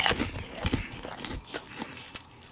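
Crunchy-topped filled mantemuerto bread is bitten into and chewed, giving a few close, faint crackling crunches that soften into quieter chewing.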